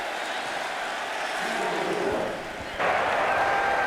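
A stadium crowd at the South Carolina at Arkansas college football game in 2022 produces a steady, dense roar that dips briefly and then swells louder again.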